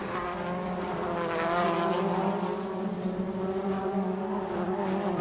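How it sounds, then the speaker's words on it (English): WTCC touring race cars from the 2014 season roar past at full power on a circuit, a continuous loud engine drone with shifting pitch and no voices. "Loeb uses all the power of his engine to overtake Tarquini for 5th around the outside of turn 1"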